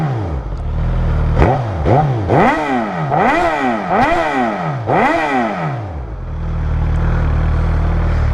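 A motorcycle fitted with a slip-on exhaust, warmed up and idling, is blipped through about six quick throttle revs that rise and fall in succession before it settles back to a steady, throaty idle, loud and close.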